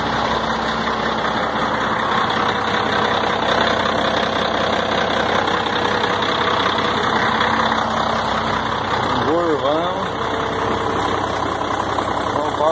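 A Volvo FH12 truck engine idles steadily after a roadside repair, a continuous low rumble with a constant tonal hum running the whole time, and a brief voice breaks in near the end.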